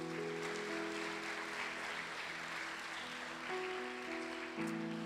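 A congregation applauding together during a family worship service at a church, with steady, sustained clapping that fills the room while sustained musical tones play underneath.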